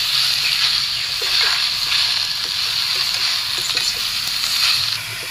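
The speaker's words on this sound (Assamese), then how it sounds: "এতিয়া ইয়াতে ধুই থোৱা মধুৰলেং টেঙাখিনি দি লওঁ আৰু এইখিনি খুব ধুনীয়াকৈ লৰাই মই ভাজি ল'ম" Washed tomatoes sizzle in a hot pan with a little turmeric, stirred steadily with a spoon that makes soft repeated scraping taps over a continuous close frying hiss.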